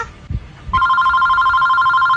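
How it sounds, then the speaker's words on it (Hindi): An outgoing phone call with a steady electronic ringback tone that starts after a couple of soft handling thumps and then holds loud and unbroken. "तेरे पापा के पास फोन लगाता हूँ।"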